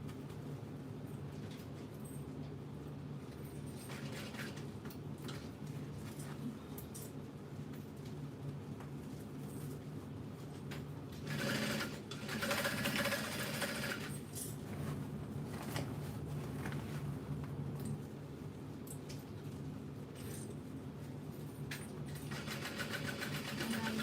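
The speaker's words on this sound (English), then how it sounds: "Sew through my zippered pocket." A sewing machine stitches through a backpack's zippered pocket, a steady continuous mechanical whir running throughout with slight rises and dips in speed, close and alone without talk.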